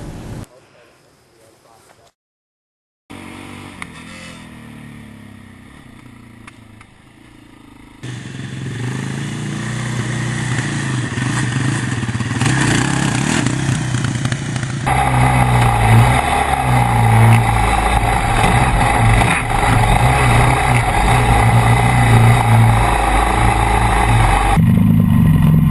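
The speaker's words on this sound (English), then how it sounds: "a basic obstacle test that consisted of driving over a series of logs at different speeds" An ATV engine labours and revs while driving over a series of logs at different speeds during an obstacle test, loud and close, building from quieter stretches into sustained heavy engine roar with speech faintly mixed in.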